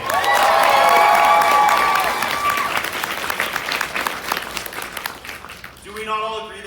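A convention crowd cheers and applauds a cosplay guest, loud and dense from the start, with whoops and shouts over sustained clapping that fades slightly toward the end, where a voice briefly comes in.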